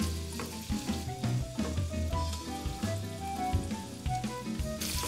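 Meatballs sizzle steadily in a pan over medium-low heat, browning for an enchilada casserole, with a dense, continuous crackle and occasional clatter of turning or stirring up close throughout.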